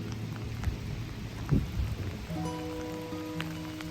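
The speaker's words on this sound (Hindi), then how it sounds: "बहुत तेज़ बारिश हो रही है" Heavy rain falls steadily in a dense hiss of drops striking surfaces, with low rumbling underneath and faint tonal sounds creeping in toward the end.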